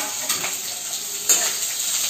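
Sliced onion sizzles in a pan for kanda poha, a steady close hiss broken by two scraping stirs of the spoon.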